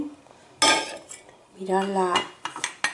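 Clean pots, a saucepan and dishes clatter and clink loudly as they are handled after a dishwasher cycle, with sharp metallic knocks and a ringing pan tone, while someone speaks briefly between the clatters.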